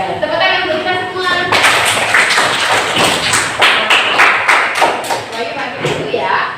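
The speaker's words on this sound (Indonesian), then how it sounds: "Nah, tepuk tangan untuk kita semua." A classroom group claps hands together after a laughing game, starting with a short burst of individual claps and then building into steady, fairly loud group clapping with a few stronger claps near the end.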